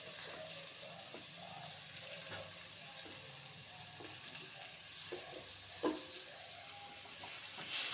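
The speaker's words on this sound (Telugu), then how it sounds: "వెల్లుల్లి పేస్ట్ వేగాక ఒక మూడు కట్ చేసి పెట్టుకున్న టమాటాలు వేసుకోవాలి" Chopped tomatoes frying in a pan with ginger-garlic paste give a soft, steady sizzle close by, with a few faint stirring knocks and no talking.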